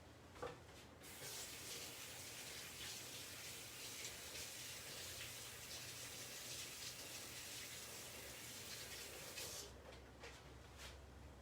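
Hands are washed under a running kitchen tap, a faint, steady rush of water that runs for about nine seconds before cutting off, with no talking.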